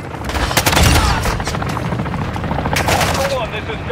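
Rapid bursts of video game gunfire crackle over a helicopter-like rumble, with loud sustained automatic fire and a few heavier booms, and radio voices come through in between.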